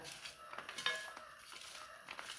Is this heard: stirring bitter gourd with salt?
yes